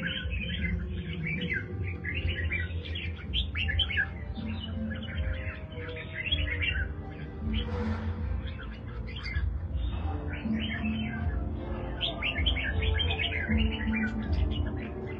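Red-whiskered bulbuls of a prized Jewish-strain line sing repeatedly in bright, clear chirping phrases, loud and close, over a steady low background hum throughout.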